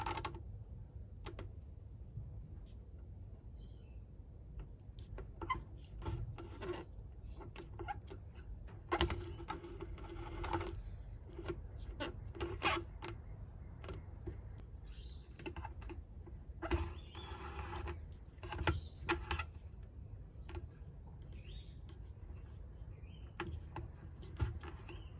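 Leather being hand stitched around corners with needle and thread: quiet scratchy pulls and small ticks as the thread passes through the hide, coming in uneven clusters with pauses, close up, no talking.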